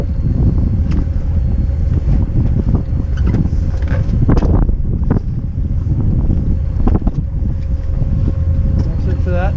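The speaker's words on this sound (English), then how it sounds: "Now to drop the mainsail, you just turn in the wind and let it fly." A sailboat's mainsail is dropped while the boat turns into the wind off the Azores, with loud, steady wind buffeting and irregular flapping and rustling of sailcloth, some water and boat noise underneath, and no speech.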